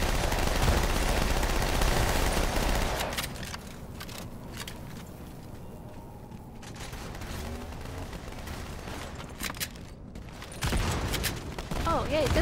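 Dense bursts of rapid automatic gunfire and explosions from a Halo match fill the opening, then thinner intermittent shots follow before another loud burst near the end.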